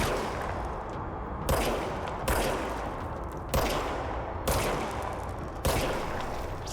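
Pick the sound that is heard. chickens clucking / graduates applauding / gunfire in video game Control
gunfire in video game Control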